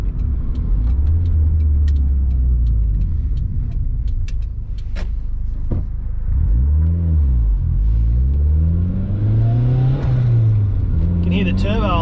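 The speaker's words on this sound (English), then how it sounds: "Can hear the turbo a lot more." A Honda Civic EK's D16 engine with a cheap eBay turbo runs loud and close, revving up and down in smooth rising and falling sweeps, with turbo whine climbing over the exhaust rumble toward the end.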